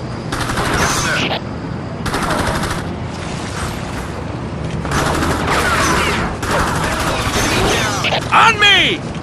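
Bursts of suppressive automatic gunfire in the Xbox game Ghost Recon 2 rattle in repeated loud volleys with brief pauses, mixed with shouted voices and mechanical clatter in a dense battle scene.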